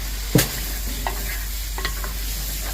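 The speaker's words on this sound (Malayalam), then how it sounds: "തക്കാളി ഇട്ടിട്ടും ഇതേപോലെ തന്നെ ഒരു 5 മിനിറ്റ് ഒന്ന് വഴറ്റിയെടുക്കണം" Chopped tomatoes sauté with cauliflower in masala in a pan, a constant close sizzle broken by a few sharp scrapes of a stirring spoon.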